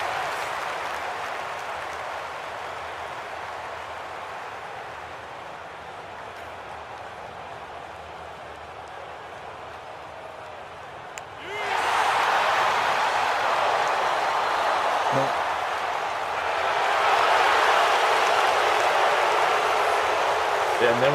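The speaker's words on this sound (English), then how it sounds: "And then went from cheering to booing." A crowd in a golf video game reacts at the 18th hole, steady cheering giving way to louder booing partway through, a broad continuous roar with no clear talk over it.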